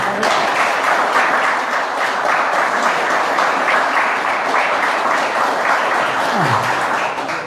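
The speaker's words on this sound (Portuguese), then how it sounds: "Vamos dar uma salva de palmas para Jesus." A church congregation breaks into loud, sustained applause, with dense close clapping that continues steadily with no pause.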